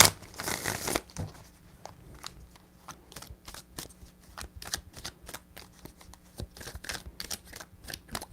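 Tarot cards shuffled by hand in a run of quick riffling bursts: a dense riffle at the start, then a steady patter of crisp card snaps close to the mic, with no talking.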